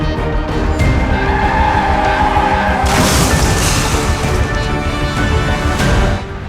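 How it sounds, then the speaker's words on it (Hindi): A car and a motorbike collide head-on on a road, picked up by a distant CCTV camera: steady loud traffic and road noise, then a sudden harsh crash midway that rings out before fading near the end. "कार और बाइक में भीषण टक्कर हो गई।"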